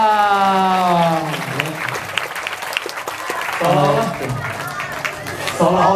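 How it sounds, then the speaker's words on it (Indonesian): Audience applause at a stage magic show exposing shamans, with clapping rising and fading beneath a man's speech over a crowd, louder near the start and end. "Tepuk tangan dulu"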